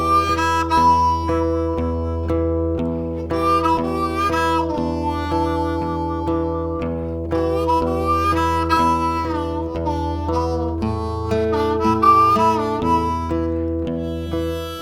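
A harmonica in second position in E plays the blues, with bent wailing notes and chugging chords over steady rhythmic backing, loud and continuous with no talking.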